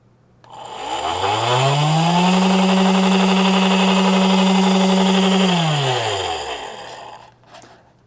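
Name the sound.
DC motor driven by H-bridge motor driver, Arduino test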